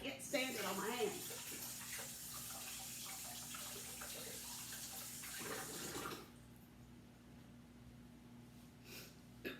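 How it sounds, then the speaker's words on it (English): Running tap water at a kitchen sink as hands are washed during home cooking, a steady broadband splash close by for about six seconds, then cut off, leaving a quiet room with faint rustles. "I'm going to wash my hands again just because I can't stand it on my hands"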